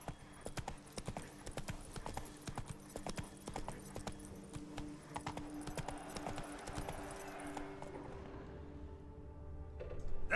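Roach, a horse in The Witcher 3, galloping with quick, rhythmic hoofbeats at a steady pace that loosen near the end as a louder thump comes in, with no talking over it.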